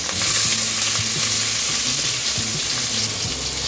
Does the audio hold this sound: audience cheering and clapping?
no